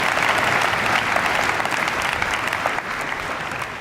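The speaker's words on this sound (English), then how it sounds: "Give him another big round of applause" Sustained audience applause at a motivational keynote talk, a dense steady wash of clapping that holds loud throughout with no voices over it.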